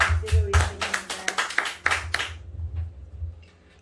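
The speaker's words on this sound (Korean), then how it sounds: "하나님께 영광의 박수를 올려드립니다." A small group claps in praise during a Korean church theology lecture, a run of about eight distinct hand claps in a loose rhythm, fading out within about two seconds.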